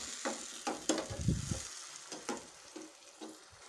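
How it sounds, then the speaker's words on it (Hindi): Tomatoes frying in a pan for an Afghani omelette: a soft, quiet sizzle punctuated by several spatula scrapes and taps, close by, with no talking. "अब ये टमाटर को भी हमने 2 से 3 मिनट ऐसे फ्राई करना है।"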